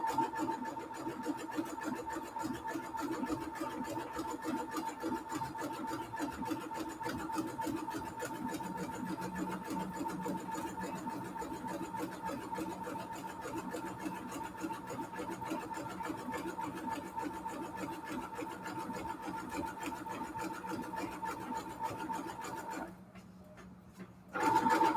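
A sewing machine stitches pages of a fabric-inspired junk journal with a steady, continuous whirring hum that runs for a long stretch. It stops abruptly near the end, then briefly starts up again.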